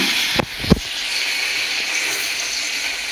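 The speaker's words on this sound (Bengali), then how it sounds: "এতে আমি জল দিয়ে দেবো।" Water poured into a hot pan of fish curry with pointed gourd and pumpkin, giving a sharp double splash and then a steady, broad sizzling hiss that carries on evenly to the end.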